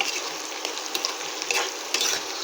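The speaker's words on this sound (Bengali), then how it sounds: "এদিকে পেঁয়াজটাও ভাজা ভাজা হয়ে এসছে।" Sliced onions fry in a pan until browned for a rohu fish korma, a dense continuous sizzle with quick scraping stirs of a spatula against the pan.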